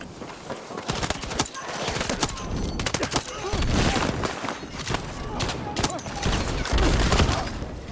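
Sustained gunfire from a Battlefield 6 multiplayer match, dense bursts of automatic weapon fire with scattered single shots. It is loud and continuous for the whole stretch, with a voice faintly present underneath.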